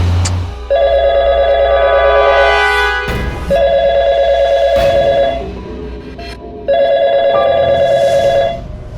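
An electronic telephone ring sounds in three long, loud bursts separated by short pauses, with no talking.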